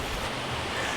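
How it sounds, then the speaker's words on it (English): Cold-water flow of Cedar Creek at a campground, a steady broadband wash of running water heard from some distance, even and continuous with no voices. "This is such a beautiful cold water creek."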